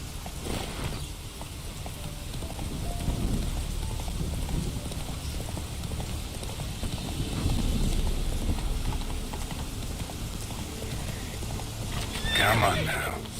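Roach the horse from The Witcher 3 neighs and whinnies over steady galloping hoofbeats, with a sharp high whinny near the end and light rain-like noise beneath; a voice speaks to the horse.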